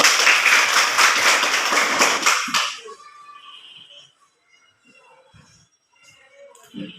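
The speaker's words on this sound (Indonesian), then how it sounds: "Bagus, tepuk tangan." Children clapping their hands together, a dense burst of claps for about three seconds that stops abruptly, followed by quiet classroom sounds and scattered soft noises.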